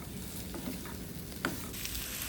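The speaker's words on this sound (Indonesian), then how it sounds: "Baru kita masukkan daging kambing yang udah di blanch tadi, direbus sebentar ya. Aduk-aduk sebentar." Goat meat, blanched beforehand, being stirred through sautéed spices in a pan for gulai, giving a soft steady sizzle with faint scraping and one sharper clink partway through, no voices.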